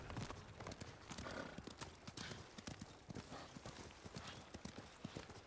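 A horse's hooves clop across a bridge in Ghost of Tsushima, a steady trotting rhythm with a faint whinny, fairly quiet with game ambience behind.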